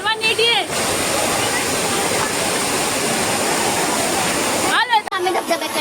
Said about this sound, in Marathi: तर तुम्ही आता हे पाणी पडताना वगैरे बघितलं असेल.